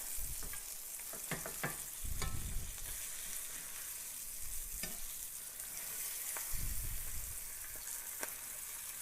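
Chicken pieces frying in hot oil in an iron skillet give a steady broadband sizzle, with occasional soft clatters and low thumps as pieces are moved, heard close with no talking.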